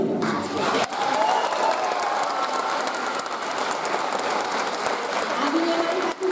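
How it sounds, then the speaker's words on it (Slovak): An audience at a youth dance show applauds for young dancers, a dense, steady wash of many hands clapping that holds loud and even for several seconds. "tým viacej potrebujú väčší potlesk"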